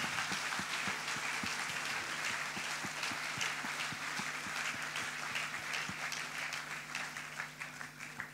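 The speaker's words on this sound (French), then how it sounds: "Est-ce qu'on peut applaudir le Seigneur?" A church congregation applauds for several seconds, a dense, steady wash of many hands clapping at moderate distance, slowly tapering toward the end.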